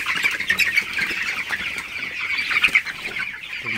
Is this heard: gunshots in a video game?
no